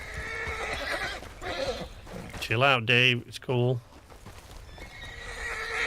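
A horse in the Red Dead Online game gives a loud, close neigh with several quavering whinny bursts midway, alongside clopping, background noise and someone talking.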